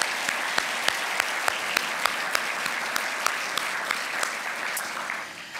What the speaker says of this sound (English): let's have a round of applause for everybody in here